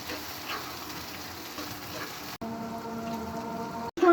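Chopped onion and green chili sizzling in hot oil in a pan, a steady crackling fry with bright hiss, briefly cut twice and then resuming with a stirring clatter near the end.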